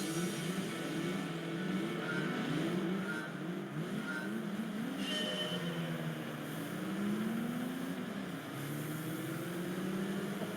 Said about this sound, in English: Okay, these are faster cars.